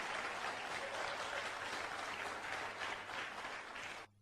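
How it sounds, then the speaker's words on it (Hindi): A crowd claps steadily and continuously, a dense wash of applause that cuts off abruptly at the end. "हाँ मारिए ताली, जोरदार ताली मारिए बस"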